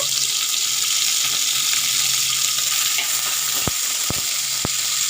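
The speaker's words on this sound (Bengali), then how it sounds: "পেঁয়াজ কুচি ওর মধ্যে একটু গোটা জিরে দিয়ে ভেজে নেব" A loud, constant sizzle of chopped onions and whole cumin seeds frying in hot oil, with a few clicks near the end and no talking.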